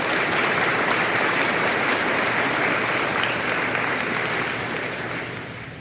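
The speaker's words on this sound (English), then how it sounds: "So one round of applause to our amazing," Sustained, dense applause from family and friends in the audience at a police badge ceremony for a recruit class, steady and full for several seconds before tapering slightly at the end.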